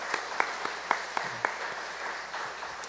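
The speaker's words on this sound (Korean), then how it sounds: "우리 수고하신 한 목사님께도 우리 사랑의 박수를" A church congregation claps in a sparse, scattered way, a handful of distinct claps spread over a few seconds before fading into room murmur, fairly faint and not building into full applause.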